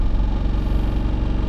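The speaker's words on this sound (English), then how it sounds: "what it sounds like to drive a 200, 300 TDI diesel motor in one of these older trucks" An older Land Rover truck fitted with a 200/300 TDI diesel engine drives along, giving a steady, close, loud low rumble with a faint rattle and no voices.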